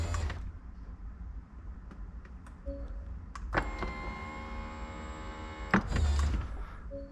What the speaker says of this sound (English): we want to bring the roof up even more